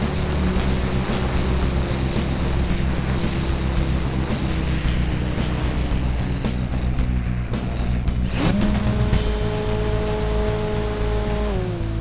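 A Hobbico FlyZone Cessna 350 Corvalis radio-controlled model airplane's engine buzzes steadily with a shifting whine as it climbs and turns overhead, pitch jumping sharply near the end.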